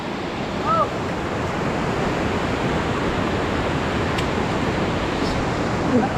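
Floodwater from a big river surges after a typhoon in the countryside, making a loud, continuous roaring rush close by that stays steady throughout, with a brief faint voice at one point.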